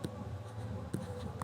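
Pen on paper during a binomial theorem maths lesson, heard as soft close scratching strokes with a few sharper taps, under no talk.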